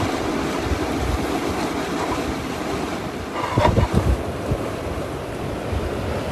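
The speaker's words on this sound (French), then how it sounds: "C'est quoi ce vent là?" Strong outdoor wind buffets the microphone in a steady, dense rush, with a few louder gusts partway through and no talking.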